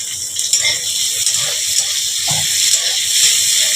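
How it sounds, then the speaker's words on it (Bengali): Chopped onions dropped into hot oil in a pan while making chowmein, a loud, steady, close sizzle and hiss running throughout with faint sounds underneath. "সেই পেঁয়াজ কুচনোগুলো আমি দিয়ে দেবো তেলের ওপর"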